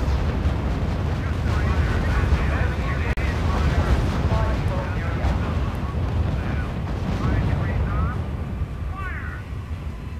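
A 155mm artillery barrage in the co-op strategy game R.U.S.E. rumbles as a continuous, loud roar of blasts and debris, with someone talking over it throughout.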